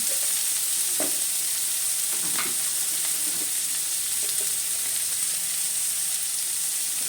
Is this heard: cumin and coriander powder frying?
yes